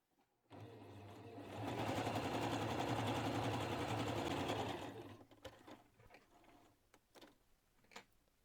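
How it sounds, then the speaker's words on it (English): A sewing machine joining fabric scrap strips on the diagonal for quilting, one steady run of rapid close stitching lasting several seconds, then small handling clicks and taps. "I'm just taking another piece that's on the diagonal and sewing it across this area"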